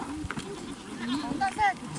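Sheep and goats penned inside a fence on the Mongolian Gobi steppe, bleating in short wavering calls at moderate distance, mixed with people talking and shuffling movement nearby.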